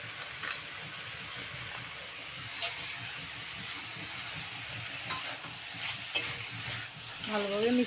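Fried food, including broken fried lentil dumplings, hisses steadily in a pan while it is stirred and mixed, with soft scraping accents through the sizzle.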